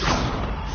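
A dense, muffled thump of the Confringo fire spell exploding in Hogwarts Legacy, a single short loud blast filling the moment.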